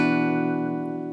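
A single F barre chord rings out on guitar, one sustained strum that holds steady and slowly decays, close and clear with no talking.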